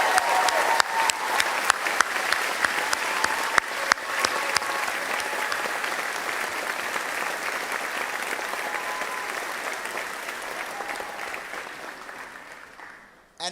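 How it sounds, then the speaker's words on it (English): A large audience at a pharmacy school graduation ceremony for the Doctor of Pharmacy class of 2025 gives sustained applause, dense and loud with a few sharper claps early, gradually fading toward the end. "Let's begin with a well-deserved round of applause for the Doctor of Pharmacy class of"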